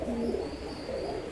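Pigeons coo inside a racing pigeon loft in Pasuruan, giving soft, low, rolling calls that repeat close by with a steady murmur beneath.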